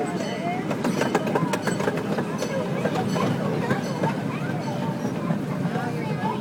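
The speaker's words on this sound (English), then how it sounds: "thanks for riding the Emerson Zoo Line Railroad at the world's famous St. Louis Zoo" The St. Louis Zoo's miniature Emerson Zoo Line Railroad train rumbles and rattles on its rails in a steady close-up wash of noise, with riders' chatter underneath.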